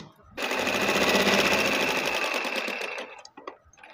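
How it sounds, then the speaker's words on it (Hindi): Sewing machine stitching lines across fused, pressed fabric for a frock chest design, a close, loud, rapid whirring run of about three seconds that ends in a few soft clicks. "ये एक लाइन में छोड़ रही हूँ और एक के ऊपर सिलाई लगा रही हूँ"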